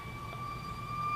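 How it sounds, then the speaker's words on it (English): A steady wailing siren tone holds over low rumbling background noise, moderately distant and continuous, with no voices. "Sorry for the sirens, guys."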